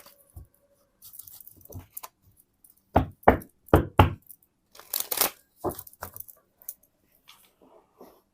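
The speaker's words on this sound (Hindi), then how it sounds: "तो सबसे पहले मैं करती हूँ आपके कार्ड्स को शफल" Tarot cards are shuffled and tapped in short close bursts, a series of crisp slaps and riffles with quiet gaps between, no talk.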